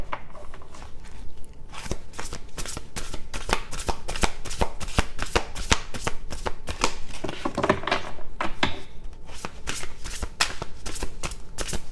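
Large tarot cards are riffled and shuffled by hand, close and crisp, in a long run of rapid fluttering slaps that continues almost without pause.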